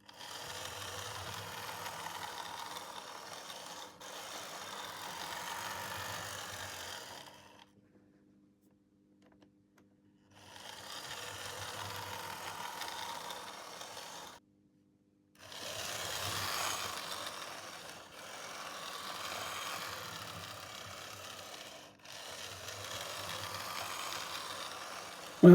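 A Fleischmann German VT98 model railcar motor running on track with poor pickups, giving a faint, steady buzzing whir in several runs that cut out to silence twice, the car stalling and restarting.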